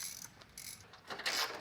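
A socket ratchet works on the hood bolts of an R33 Skyline GT-R during a carbon hood swap, making a brief, close burst of light mechanical ratcheting clicks and whirring over a second and a half.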